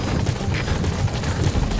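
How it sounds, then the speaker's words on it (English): A helicopter's low, steady rotor thrum in Metal Gear Solid V rumbles continuously as it arrives, fairly loud and close, with a dense mechanical drone filling the background. "Support helicopter has arrived."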